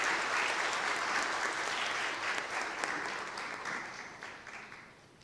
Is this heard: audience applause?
yes